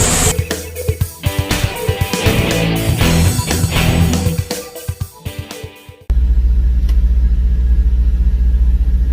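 A Prime Inc truck's engine rumbles on the road, a low, steady drone that runs alone, following a stretch of loud, choppy intro music with thumping beats.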